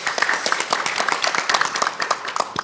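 An audience at a research talk concert applauds, many hands clapping in a dense, steady patter throughout, moderately loud and close, with no speech over it.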